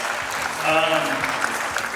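Brief audience applause for a speaker at a conference, a short burst of clapping with some voices and a tonal sound mixed in.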